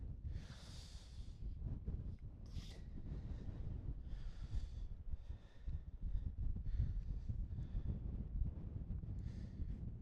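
Wind at a quiet, empty outdoor lookout, gusting against the microphone in low steady rumbles with whooshing surges, continuous throughout with no voices.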